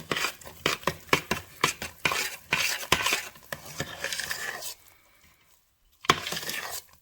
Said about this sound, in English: Now let's stir that up